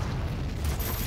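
A grenade explosion in the shooter game DOOM, heard as a dense, loud boom that fills the whole short moment with a deep rumbling burst and no voice over it.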